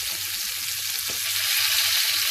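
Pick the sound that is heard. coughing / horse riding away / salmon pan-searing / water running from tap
salmon pan-searing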